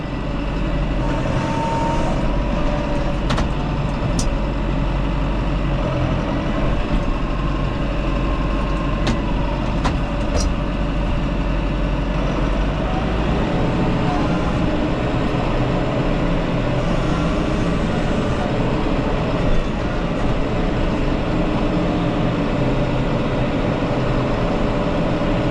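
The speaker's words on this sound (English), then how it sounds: "I'm having to run in four-wheel drive to get out of the field" Truck engine droning steadily in four-wheel drive while crossing a soft field, a loud continuous low rumble with faint rattles and occasional clicks, no voices.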